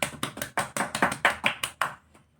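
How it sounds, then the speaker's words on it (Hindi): An audience at a Bhagwat katha religious gathering claps in a steady rhythm: about eight sharp, close bursts of clapping in quick succession, then a brief fade to near silence. "प्रांजल भाई के लिए सब लोग तालियां जोरदार बजा दीजिए"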